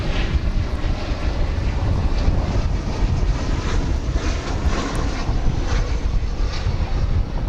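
An American Airlines Boeing 737-800 jet at DFW airport, arriving from Montrose, Colorado, producing a loud, steady, broadband engine roar with wind buffeting, continuous throughout.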